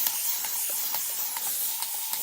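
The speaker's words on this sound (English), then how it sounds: "I'm going to spray it with water, just misting it with my little water bottle" A small water spray bottle mists a towel laid flat for inking, giving a steady hiss marked by repeated short pump bursts at an even rhythm, close and alone.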